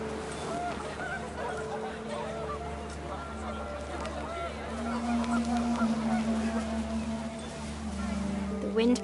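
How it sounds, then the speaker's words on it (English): Panicked geese honk on a windy day in the video game What Remains of Edith Finch, with calls rising over steady wind and a low sustained tonal background, growing somewhat louder toward the end. "The wind picked up, and panicked geese appeared and quickly went."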